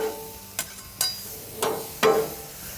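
White and shiitake mushrooms tossed in a hot pan, with four distinct clattering knocks of the pan and spatula spaced about half a second apart over a low, faint sizzle.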